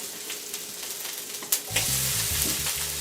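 Plant-based sausages hit a hot pan and start to sizzle, a steady close frying hiss with a brief clatter as they go in and low rumbling underneath, no talking.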